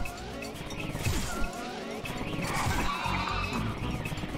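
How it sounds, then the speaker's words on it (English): Cartoonish animal sound effects from the Pizza Tower video game, with bleating sheep and goat cries and horse-like whinnies mixed into busy, crashing game noise and music, sustained over several seconds. "Just the random like sheep and the goat noises and all that shit"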